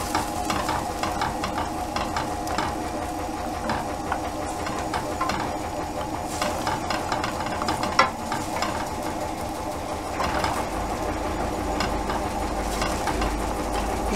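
A spoon stirs tuna rice in a sizzling pan seasoned with Azorean pepper, steady scraping and frying crackle running evenly throughout, with a sharper clank partway through and deeper rumble toward the end.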